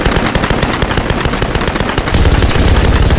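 Minigun fire in Tomb Raider Definitive Edition multiplayer team deathmatch, a loud rapid stream of shots that rises into a denser continuous roar partway through.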